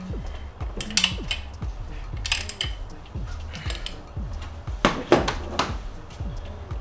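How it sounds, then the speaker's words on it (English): A ratchet wrench tightens a bolt on a billet catch can on a 2021 Redeye Hellcat Charger. Rapid, close ratcheting clicks come in repeated bursts with sharp metallic clinks in between, and nobody speaks. "Have a ratcheted wrench"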